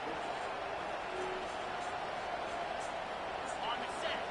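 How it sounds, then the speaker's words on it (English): A stadium crowd at a college football game against Kansas State roars steadily as the defense tries to hold in the red zone on third down. The broad, continuous crowd noise stays at a moderate level with faint higher cries. "the crowd coming to life here, trying to help this defense down in the red zone"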